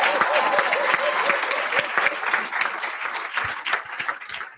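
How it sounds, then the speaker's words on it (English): An audience applauding presenters at a youth pitch competition, a thick burst of clapping with a voice talking over the start, tapering into sparser claps toward the end. "give everybody a big round of applause"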